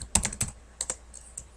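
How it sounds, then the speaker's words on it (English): Several quick, light keystrokes tap on a computer keyboard in short, irregular bursts, close and fairly quiet with no voices. "And then it's just a matter of typing it all in."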